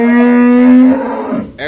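A high-grade dairy cow mooing at a farm in Dinajpur. One loud, close, drawn-out low moo that fades near the end, heard clearly and alone.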